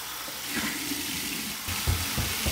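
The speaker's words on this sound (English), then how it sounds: "So here we go, cold water rinse." Cold water running steadily from a tap for a rinse, a continuous broadband splash with a few louder gushes near the end, close by and alone.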